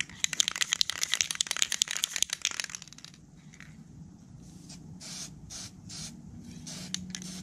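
A Duplicolor spray can applies white sandable primer in a bumper repair. A quick run of sharp rattling clicks comes first, then a series of short, soft hissing bursts from small taps on the nozzle.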